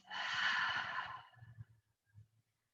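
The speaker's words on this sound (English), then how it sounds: "Exhale through the mouth" A single slow exhale through the mouth during a yoga flow, a soft breathy rush lasting about a second, then faint trailing breath noises in a quiet room.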